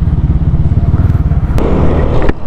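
A motorcycle with a suspected fault runs close and loud on the road toward Tagaytay, its engine pulsing in a quick, uneven rhythm with a brief clatter near the end.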